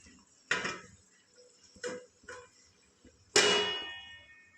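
A metal lid set onto a cooking pot of simmering mushroom curry gives a few sharp metallic clangs, one larger ringing clatter near the end, close and clear with no talk.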